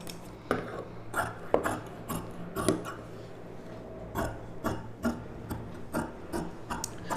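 Scissors cut along the neck shape of blouse fabric, producing a steady series of soft, close snipping clicks roughly every half second over a faint background hum.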